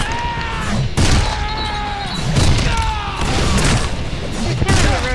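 Cannon fire in a video game, a series of heavy booming blasts about one per second, loud and close, with talk over parts of it.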